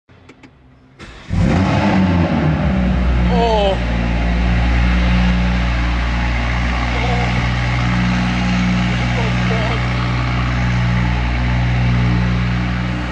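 A tuned BMW engine with a catless exhaust cranks and catches on a cold start with a loud roar, then settles into a deep, rumbling, steady idle that stays close and loud.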